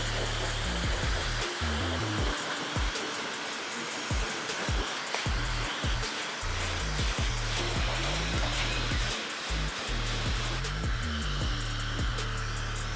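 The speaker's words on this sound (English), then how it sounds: "Now I'm gonna go ahead and start the blow drying process with medium heat to medium airflow." A hair dryer blows steadily on medium heat and medium airflow while a barber styles a modern mullet with a taper fade, a loud, continuous whooshing roar held for the whole stretch with slight fluctuations as the airflow moves.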